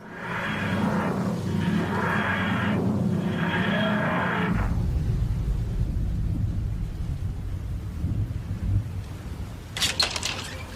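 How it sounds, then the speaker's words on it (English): Night thunderstorm: a loud, rolling rumble of thunder in several surges gives way to steady heavy rain hiss, with a sharp crackling burst close by near the end. "It was a dark and stormy night."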